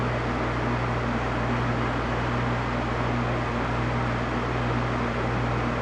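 A heat gun, being used to desolder parts on a Ford Powerstroke 7.3L diesel, blows with a constant, dense whooshing roar and low motor hum, unchanging throughout, no voices.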